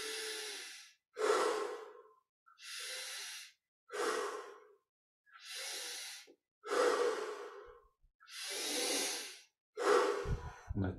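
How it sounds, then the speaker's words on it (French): Slow, deep breaths during a guided breathing exercise, long inhales and exhales alternating in a steady rhythm about every second, close and clear with no talking. "Augmentons maintenant l'amplitude des respirations."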